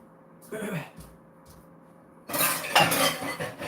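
Dishes and cutlery clink and clatter close by as things are cleared, with a short pause in the middle and a bit of low voice.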